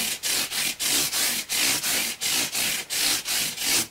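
Rhythmic back-and-forth rubbing of a fine abrasive polishing the frets on a Martin HD-28 guitar during a fret dress, about a dozen steady strokes close to the microphone with no talk.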